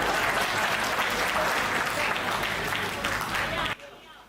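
An audience at a Hindi poetry recital claps in a loud, steady wash of applause for a few seconds, then cuts off abruptly into near silence.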